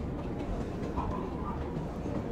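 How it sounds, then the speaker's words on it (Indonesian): A rumbling ride aboard a Limited Express train bound for Shin-Osaka, with steady low rolling noise and faint rail clatter throughout; a voice speaks softly underneath. "di sini saya ambil kereta api"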